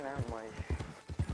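Horse hooves clip-clop in steady rhythm in Red Dead Online, a run of muffled thuds heard under someone talking.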